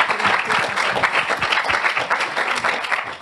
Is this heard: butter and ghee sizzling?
no